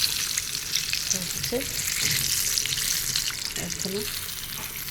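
Homemade capsi snacks frying in hot oil, giving a steady, close broadband sizzle throughout, with a brief voice speaking over it.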